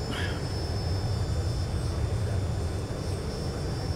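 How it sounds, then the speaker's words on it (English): A steady, droning jet engine roar with a faint high whine, continuous and even throughout, like an airliner cruising: a Boeing 737-800 in the X-Plane 11 flight simulator. "engine sounds definitely tend to be a little on the strong side."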